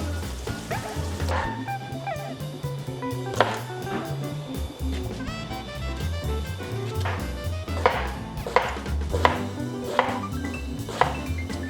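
Vegetables being chopped for pinakbet, a Filipino pork and squash stew, as the meat simmers; a steady stream of knife knocks on a board, with a series of sharper, louder chops near the end, all over a low background hum.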